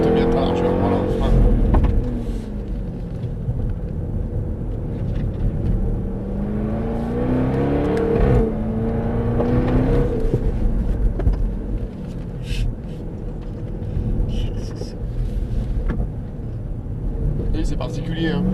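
A Jaguar F-Type SVR's large engine revs and pulls through the gears on a race track, the rising and falling drone steady beneath in-car talk between driver and instructor.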